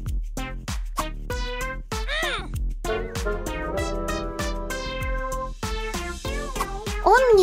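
A cat meows repeatedly in quick, high-pitched cries over a backdrop of plucked, rhythmic music.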